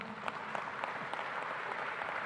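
Steady applause from a crowd fills the whole stretch, an even, fairly soft patter of many hands with a few sharper claps standing out, no speech over it.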